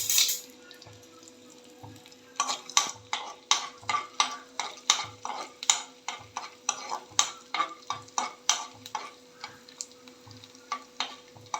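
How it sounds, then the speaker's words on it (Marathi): Edible gum (dink) frying in hot ghee, heard as a steady soft sizzle broken by regular rhythmic scraping strokes of a spoon in the pan, close and fairly quiet, with no talking. "गरम झाले, मी डिंक तळून घेते आहे."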